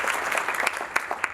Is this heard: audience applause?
yes